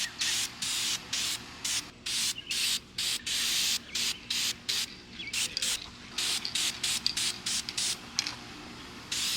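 Short repeated bursts of spray paint hiss as primer goes onto C6 Corvette brake calipers, about twenty quick blasts in an irregular rhythm, close and fairly quiet, with brief pauses between them.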